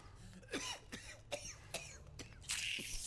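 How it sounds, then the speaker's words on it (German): A player in the horror game Level Zero Extraction gives several short, quiet coughs spaced across a few seconds, set against low game ambience with a brief noisy burst near the end. "Ja, du hustest."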